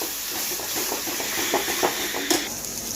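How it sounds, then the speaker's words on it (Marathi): Tomato puree fries in hot oil in a pan while cooking paneer masala, a close, loud continuous sizzling hiss with small popping spatters scattered throughout. "यामध्ये आपण टाकूया टोमॅटो प्युरी, आणि आता हे छान असं तेल सुटेपर्यंत आपण परतून घ्यायचं"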